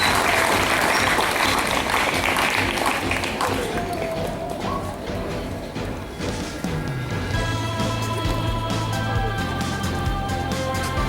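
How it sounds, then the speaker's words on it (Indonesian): Audience applause fills a school project exhibition hall at a junior high in Klaten, Central Java, steady clapping from a crowd at the start that fades into murmuring and background music, with voices heard throughout. "Tepuk tangannya dulu."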